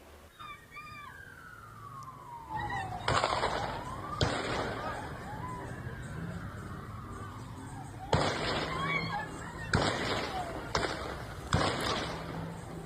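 Sharp gunshots fired at Bondi Beach in Sydney during a public attack, a few loud reports cracking out over a wailing siren, each followed by a lull.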